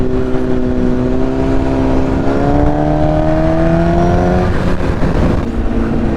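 A Honda CBR 1000RR SC57 sport motorcycle revs up as it is ridden, its engine note climbing steadily in pitch, loud and continuous, before easing off near the end.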